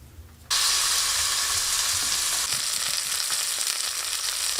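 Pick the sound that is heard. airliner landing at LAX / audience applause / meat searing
meat searing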